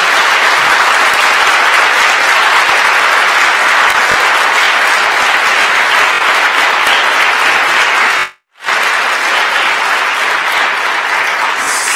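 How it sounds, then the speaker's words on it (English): A large audience at Sheridan applauds Ken Dryden, loud and dense, sustained for about twelve seconds with a brief dropout near the end. "So I think this man deserves a round of applause."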